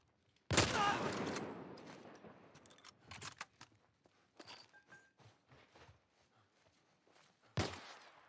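In The Last of Us, a loud gunshot booms with a long decaying tail, followed by scuffling and smaller clatters. A second sharp shot rings out near the end.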